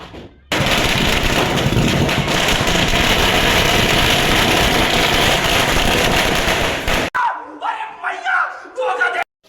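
Diwali firecrackers burst in a loud, dense, continuous barrage of crackling pops for about six seconds, then stop abruptly, leaving people talking nearby.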